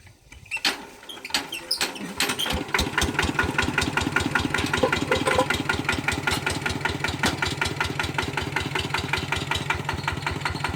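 A small single-cylinder walk-behind tractor engine, on a three-wheeled farm tractor, cranks and catches, then settles into a steady, loud chugging idle with a fast regular thump, close by and without talk.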